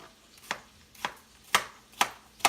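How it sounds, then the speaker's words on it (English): A knife chops an onion on a cutting board: five crisp, evenly spaced strikes about half a second apart, close and fairly quiet, with no talking. "now I'll go ahead and cut up onion"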